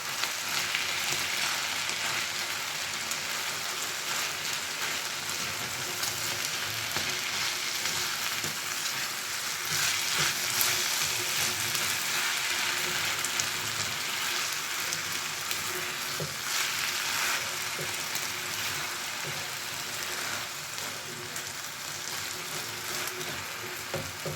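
Purslane frying in a pan gives a steady, close sizzle with crackling and occasional stirring sounds, continuous and fairly even throughout, with no talk.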